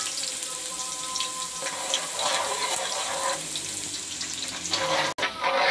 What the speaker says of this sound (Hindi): 2 मिनट तक प्याज को फ्राई करेंगे।